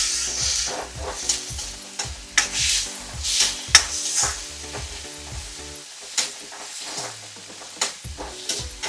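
Onion, tomato, ginger-garlic paste, curry leaves and green chilli sautéing in a pan, a close sizzle broken by repeated scraping stirs and clinks of a spoon against the pan in an uneven rhythm.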